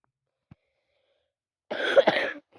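One short, harsh cough, close and fairly loud, after a tiny click in otherwise silent surroundings.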